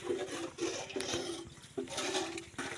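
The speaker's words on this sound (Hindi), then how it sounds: "अंदर से पानी खाली हो रहा है" Water draining and gushing out from inside a tub or vessel outdoors, a steady rushing, gurgling flow in repeated surges, fairly close and moderately loud with no talk over it.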